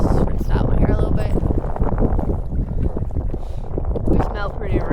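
Gusty wind buffets the microphone over open water on the Missouri River, a steady rough roar with surging gusts and faint water sounds beneath.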